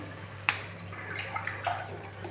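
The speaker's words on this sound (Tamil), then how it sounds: "இப்போ நம்ம 1 டம்ளர் அரிசிக்கு 2 டம்ளர் தண்ணி இன்னும் சேர்த்துக்கலாம்" Water poured from a tumbler into a pot of rice for mint rice, a faint, brief splash and trickle over low background hum with no talk.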